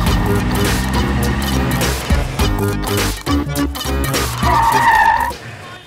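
A car pulls away with tires skidding and squealing, its engine roaring loud and close. Bursts of revving break off and return, and a sharp screech comes near the end.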